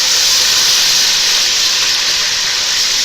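Garlic-ginger paste frying with browned onions in a pan for Chinese biryani, a loud, dense, continuous hiss and sizzle held steady throughout with no voice.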